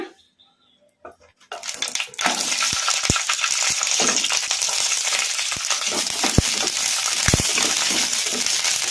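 Green chillies drop into hot oil in a kadai. After a brief near-silence, a loud, steady hiss of sizzling bursts in and holds throughout.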